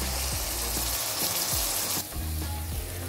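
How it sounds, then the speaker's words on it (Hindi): Mash dal (urad dal) frying in a pan over a medium flame gives a steady, close sizzle, with light rhythmic scraping taps from stirring. "तो ये देखें यहाँ पे मैं दाल को अच्छे से फ्राई कर रही हूँ।"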